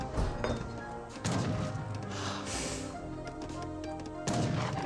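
Heavy cannon and culverin fire in an Age of Empires 3 battle between France and Italians, sounding as repeated booming blasts and cracks over a continuous din of combat.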